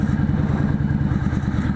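Motorcycle engine running steadily while riding downhill, a loud, close, even mid-pitched drone with a rapid regular pulse throughout.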